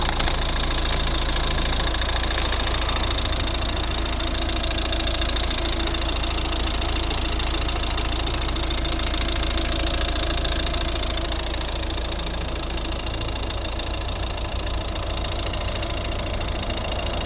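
A 2011 Volvo S40 1.6 D2 diesel engine idles close by, with the hood open, a constant loud knocking rumble that stays even throughout without any voices.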